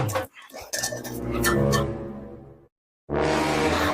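A metal cooking pot stuck over someone's head clanks and rattles in quick bursts, a sharp clatter followed by a dull ringing scrape, close and loud, with brief silence and then more knocking.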